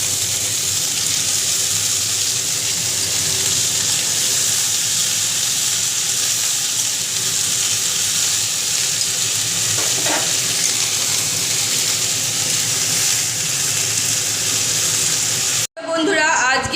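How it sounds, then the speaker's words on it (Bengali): Cabbage with beans, potatoes and tomatoes cooks in a pan on a home kitchen stove, giving a loud, steady sizzling hiss that continues unbroken before cutting off abruptly near the end. "এখন বাঁধাকপি রান্না করছি, শিম দিয়ে আলু দিয়ে টমেটো দিয়ে বাঁধাকপি রান্না।"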